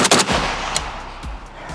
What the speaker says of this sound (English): let's see how fast I can get a split here with just 2 shots